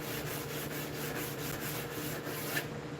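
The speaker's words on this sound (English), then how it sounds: "throw some sandpaper on that joint" Steady back-and-forth rubbing of 220-grit mesh sandpaper over a wooden joint on a worktop, a continuous close scratchy rasp with a fast rhythmic pulse, no voices.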